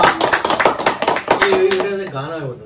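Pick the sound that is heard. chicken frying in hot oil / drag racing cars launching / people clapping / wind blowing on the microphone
people clapping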